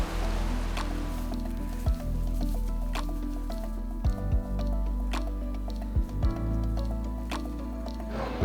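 Rain falling during a hike on the Great Divide Trail, a steady wash of drops over low rumble with occasional sharper splats and thumps, continuous throughout.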